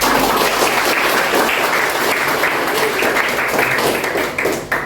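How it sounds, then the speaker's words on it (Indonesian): A university drama class breaks into applause, a loud and dense burst of many hands clapping together that runs steadily for nearly five seconds before tapering at the end. "Tepuk tangan untuk"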